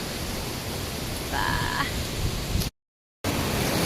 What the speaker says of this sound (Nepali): खोला छ हेर्नुहोस् यहाँ।